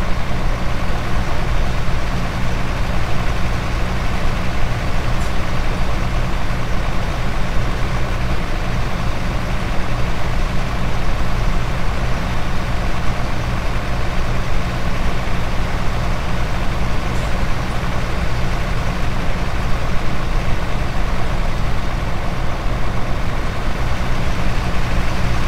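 A truck engine in Euro Truck Simulator 2 drones steadily while cruising at a constant speed. The low hum and road noise go on without a break, and no one speaks.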